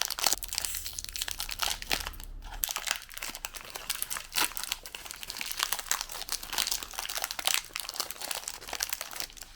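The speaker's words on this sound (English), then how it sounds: "let's open these salty biscuits first" Crinkly plastic wrapper around MRE salty biscuits being torn and crumpled open, a busy stream of close crackling and ripping noises with a brief pause partway through.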